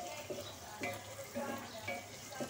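A spice paste of chilli powder and turmeric fries and is stirred in a pan, a close crackling sizzle broken by regular scraping strokes of a spoon, about every half second.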